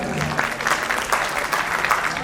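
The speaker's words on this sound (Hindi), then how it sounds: "एक बार जोरदार तालियां हो जाए।" An audience at a school annual function bursts into loud, steady applause, many hands clapping together in a dense, continuous patter throughout.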